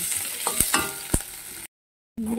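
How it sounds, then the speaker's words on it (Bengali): Onion, green chilli and tomato fry in a pan with a steady sizzle, broken by a few sharp utensil scrapes and knocks before a short silent gap, then the frying resumes. "দিয়ে পেঁয়াজ, কাঁচা লঙ্কা, টমেটোকে আর একটু ভেজে নেব।"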